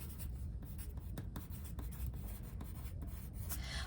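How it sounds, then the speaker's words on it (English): Pen scratching across small paper slips for a children's gratitude jar craft, a steady close scratchy rasp with repeated short strokes and pauses, no talking. "Write down what you're grateful for."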